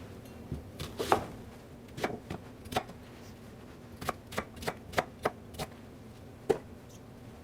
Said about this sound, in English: Dice them down and add to the pot.